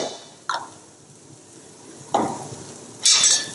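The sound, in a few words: stir-frying ginger and garlic in a pan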